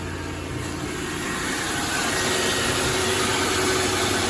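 2003 Lincoln Town Car engine running at idle with a steady, loud, even hum and drone, rising slightly in level and holding constant with no talk.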